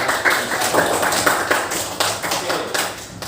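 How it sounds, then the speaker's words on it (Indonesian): A classroom crowd applauds, dense overlapping claps forming a steady, loud wash for a few seconds. "tepuk tangan dulu buat saya"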